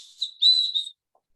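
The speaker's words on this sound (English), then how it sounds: "This also seconds as a whistle." Emergency whistle on an inflatable life belt blown in two short shrill bursts close by, the second longer, then silence.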